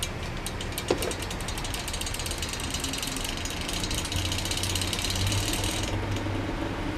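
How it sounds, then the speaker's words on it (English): An 8-inch Kwik Kool desk fan starts up, its loose badge giving a rapid, steady mechanical rattle over a constant whirring hum, close and fairly quiet, with no voices. "That rattling sound you heard is actually the badge."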